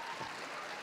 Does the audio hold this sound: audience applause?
yes